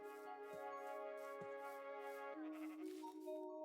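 A sheep bleats twice in Minecraft, short wavering calls over a steady bed of sustained melodic tones that shift in pitch partway through.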